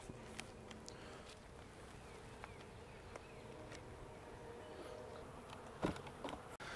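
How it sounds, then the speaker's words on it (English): Honey bees buzzing around an opened hive box during a spring inspection, a faint steady hum with scattered close fly-bys and a few light knocks near the end. "that's a nice cluster of bees"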